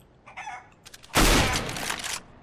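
Clucking from a chicken in Counter-Strike: Global Offensive, a short squawk and then a loud, sustained burst of noise that sounds like gunfire, close and harsh, with no talk.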